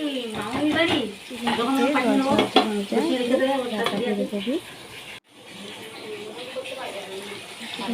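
Chicken curry is stirred and fried in a pan over a medium flame, with a loud, continuous sizzle and the scrape of a spatula running under a person talking nearby.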